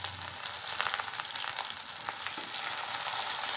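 Onions fry in a pan for an Odia egg and potato curry, giving a steady loud sizzle broken by faint stirring scrapes and small crackles.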